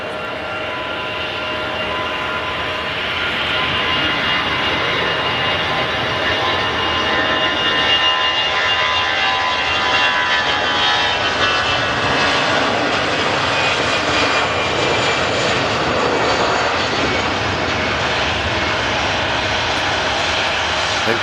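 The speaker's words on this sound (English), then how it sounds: "EasyJet Europe A380 heading off to Venice" An EasyJet Europe airliner takes off for Venice, its jet engines building into a loud, sustained roar that swells after the first few seconds and holds strong and near for about twenty seconds.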